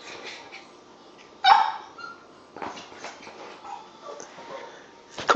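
A puppy barks and whimpers in short yelps while trying to make a jump, with sharp louder barks near the start and end and softer whines between them, close by.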